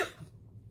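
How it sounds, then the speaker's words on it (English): A single sharp cough from someone with allergies, sudden and fairly close, followed by a faint low rumble of room noise. "So I may be coughing and drinking"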